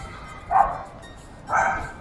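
A dog at a house under construction in Santurce, Puerto Rico, lets out two loud, aggressive barks about a second apart, fairly close, with no talk over them.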